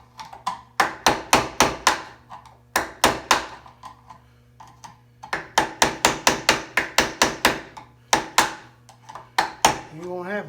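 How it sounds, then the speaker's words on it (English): A hammer strikes a screwdriver to tap the key out of a King Midget transmission shaft, sharp metallic blows in quick bursts of several hits separated by short pauses, close and loud, with a steady low hum underneath. "take a screwdriver and a hammer"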